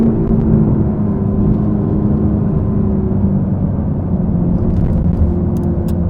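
A Mercedes-AMG GT Black Series with its flat-plane V8 drives along, its engine giving a loud, constant droning rumble from inside the car that barely changes over several seconds, with no talking.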